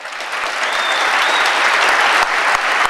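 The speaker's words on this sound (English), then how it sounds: "We need to give them a round of applause for that." A crowd claps for National Guard soldiers at their send-off before deploying to Afghanistan, sustained applause that thickens midway, with a few sharper individual claps standing out.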